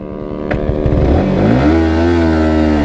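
A sport motorcycle, either a Bajaj Pulsar RS200 BS4 or Yamaha R15 V4, accelerates hard through first gear in a drag race, its engine note climbing loudly in pitch with no talking.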